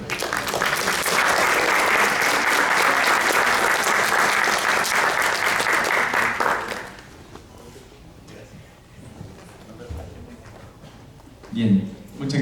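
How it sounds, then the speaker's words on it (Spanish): Audience applause after a medical talk on managing chronic pain in emergency care: loud, dense clapping fills the first seven seconds, then fades into a quieter room with scattered noises. "Un aplauso nuevamente, por favor."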